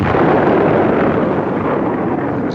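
Thunder rolls during a storm, a loud continuous rumbling roar that fills the whole stretch without a break and fades only slightly toward the end.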